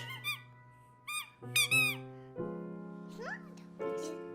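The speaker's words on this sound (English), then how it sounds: "Just a squeaky thing." A squeaky toy in a children's cartoon gives several short, high squeaks, sitting over a steady musical background with tonal cartoon sound effects.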